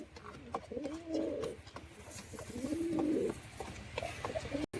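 Red-faced fancy pigeons coo nearby in two drawn-out rolling calls over a faint background hum and scattered clicks.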